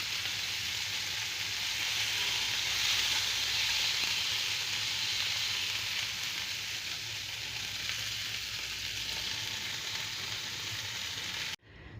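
Steady, loud sizzling of veal mince patties frying in a pan, a continuous crackling hiss that cuts off abruptly at the end.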